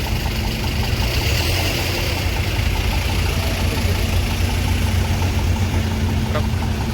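Trucks and buses idle in a queue to board a ship, giving a continuous, even engine drone with a low throbbing rumble and no clear voices.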